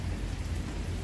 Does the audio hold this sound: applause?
no